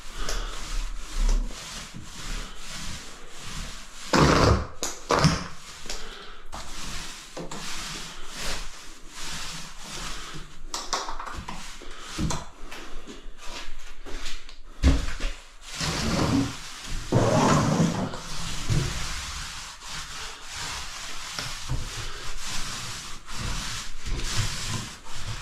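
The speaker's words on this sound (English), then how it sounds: "give it a bit of a scrape with a trowel" A trowel scrapes across a floor being prepared for tiling, making repeated loud rasping strokes in uneven bursts over a long stretch, with brief pauses between passes.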